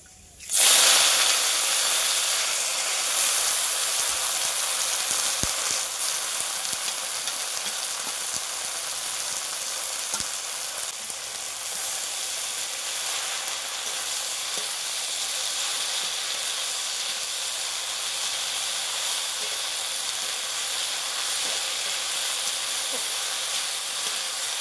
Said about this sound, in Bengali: লাল লাল করে ভাজা হয়ে গেছে, এখন শাক দিয়ে দিচ্ছি।